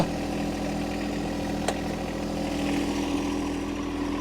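A John Deere 1025R compact tractor runs steadily while hauling heavy logs, its engine giving a continuous mid-pitched drone with a low pulsing rumble and one brief sharp click partway through.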